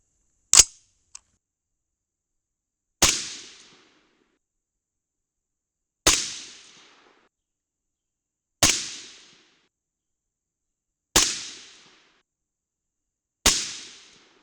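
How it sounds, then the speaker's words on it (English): Six sharp rifle shots from a .22 Nosler loaded with 69 grain Match Kings, each a loud crack with a short decaying tail, spaced roughly two to three seconds apart, with no talking. "shoot a 5-shot group with these, get some velocity data"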